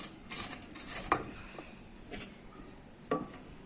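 Puffed rice being stirred with jaggery syrup, giving faint, sparse clinks and scrapes of a spoon against a vessel at irregular intervals, with no talk.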